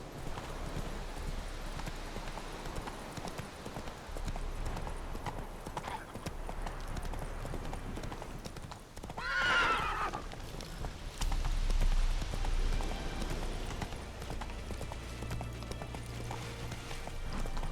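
Hooves clip-clop at a steady pace from a galloping horse in The Witcher 3 video game, with a brief whinny midway and faint game ambience behind, no speech over it.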